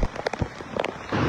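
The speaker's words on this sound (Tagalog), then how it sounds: "Simula pa kahapon, malakas na ang ulan at hangin sa Seattle Negros Oriental." Heavy rain driven by strong wind during a storm in Negros Oriental, heard as a loud, continuous wash with gusty surges and scattered impacts.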